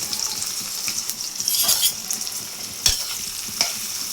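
Onion and green chili frying in hot mustard oil for a beef jhura dish, a steady bright sizzle with occasional stirring scrapes and a sharp clink near the end, close and continuous with no talking.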